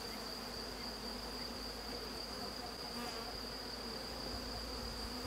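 Worker honey bees buzz steadily at an open beehive while a frame is being inspected, a dense continuous hum filling the whole stretch with no voices.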